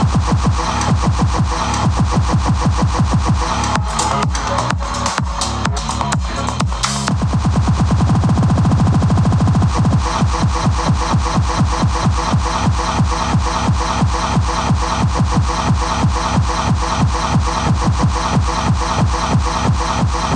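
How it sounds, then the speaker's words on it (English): A DJ cues tracks while monitoring through AlphaTheta HDJ-F10 wireless headphones, with a dense, steady beat of tight repeating percussive hits running throughout, a brief stutter or scratch-like passage midway, all loud and continuous with no talk. "I shoved my microphone into the headphones so you can hear what it sounds like to cue in them"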